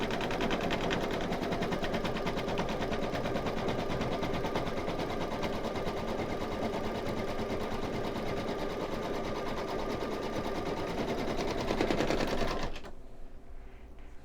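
A machine embroidery unit runs continuously while stitching a stuffed toy's outline, a rapid rhythmic needle clatter over motor whir, close and steady until it stops abruptly near the end.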